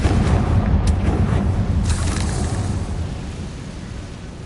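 Rumbling spell explosions from Confringo being cast in the Harry Potter Legacy video game, a heavy continuous boom with a couple of sharp bursts early on, fading slightly toward the end.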